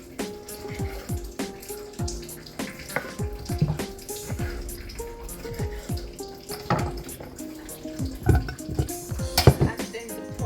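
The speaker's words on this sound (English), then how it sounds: "Wash it nice and clean." Tap water runs and splashes over tomatoes being washed in a kitchen sink, with irregular clatters and drips close by, continuous and fairly loud, no talking.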